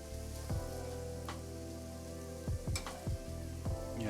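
Ground beef for tacos frying in a small frying pan, a soft steady sizzle with a few sharp clatters from stirring near the end, fairly quiet.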